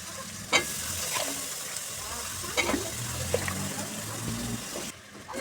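Brinjal pieces and chillies frying in a pan, a steady hiss and sizzle with scraping strokes of a spoon stirring them through, close and continuous.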